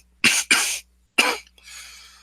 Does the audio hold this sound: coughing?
yes